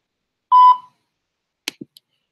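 A voicemail answering machine sounds one clean electronic beep, followed by a couple of short faint clicks.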